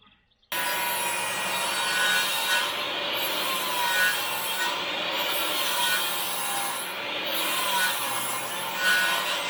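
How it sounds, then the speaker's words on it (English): Continuous abrasive sanding of wooden 2x2 boards, a steady gritty scraping with slight rhythmic swells, close and fairly loud after a brief quiet start. "I am finishing up the sanding of the different 2x2s that we cut up"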